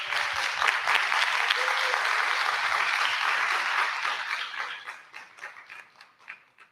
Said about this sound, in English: So one big applause for her again